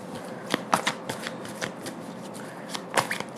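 Tarot cards riffled and shuffled from a deck in a series of crisp, close papery bursts and flicks, irregular in rhythm, with no talking.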